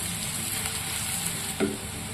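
Onions sizzle and fry steadily in a hot pan for stingray fish curry, with a brief scrape of stirring near the end.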